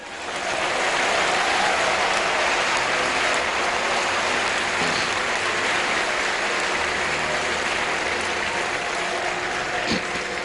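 A church congregation at an evening service applauding, a dense, steady roar of clapping that swells in and holds loud for several seconds.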